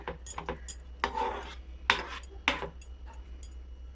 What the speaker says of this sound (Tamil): கெட்டி விடாமல் நல்லா கிண்டணும் கிளறிக்கிட்டே இருக்கணும் நல்லா சிம்மிலே வச்சு நல்லா அப்படியே கிண்டிக்கிட்டே இருக்கணும்